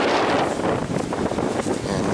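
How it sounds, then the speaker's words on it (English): Strong sustained wind at about 30 miles an hour roars and buffets the microphone during a Lubbock, Texas snow storm, a continuous loud rushing with gusty fluctuations throughout. "We got a sustained 30-mile-an-hour winds"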